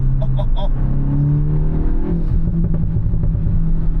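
A Volkswagen Mk8 GTI with a Unitronic tune revs hard in second gear, its engine note climbing in a loud, close rising drone that then breaks into rougher bursts.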